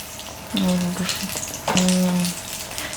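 Oil sizzles and crackles on a hot appam pan in two short bursts, with a brief tonal squeak in between.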